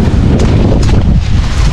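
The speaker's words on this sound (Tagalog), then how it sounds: "Ang sarap ng hangin mga kasinag." Strong wind gusts buffet the microphone at a hilltop hut overlooking the sea, a steady loud rush and rumble that fills the whole moment with no talk over it.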